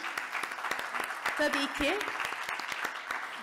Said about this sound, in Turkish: Rektör arkadaşlarımı bir daha bir alkışlamak istiyorum.